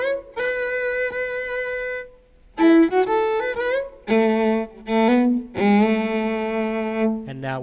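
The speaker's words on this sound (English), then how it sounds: "So that intro just with the solo violin." A solo violin plays a fiddle tune intro in short bowed phrases with slides and clear, bright sustained notes, close and loud with brief gaps between phrases, no voices.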